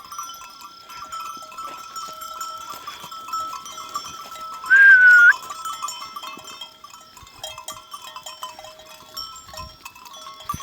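A single short, loud sheep bleat rises briefly over a steady background of tinkling sheep bells and faint outdoor ambience while grazing at night.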